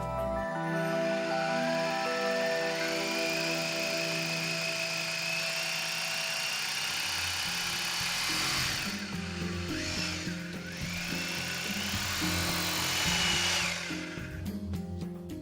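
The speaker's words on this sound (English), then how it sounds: "make holes in the wall using an appropriate drill bit" Power drill with a suitable bit boring holes in a wall to mount a bracket for an Ariston Europrisma electric water heater, a loud steady whine that rises and falls in pitch as it bites, running continuously.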